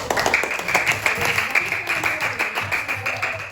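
A primary school class in a coding lesson claps together, a brief burst of fairly loud, rapid, slightly uneven applause with faint voices underneath.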